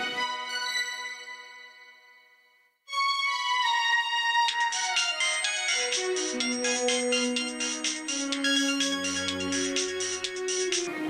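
Mobile phone ringtone playing on an outgoing call, a loud melodic electronic tune that starts after a brief fading note and short pause, then continues steadily with bright repeating chimes.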